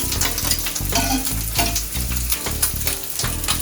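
Pork belly crisps on a hot griddle with a loud, dense, continuous sizzle and crackle, overlaid by rhythmic clanking and scraping of a spatula, close up and without speech.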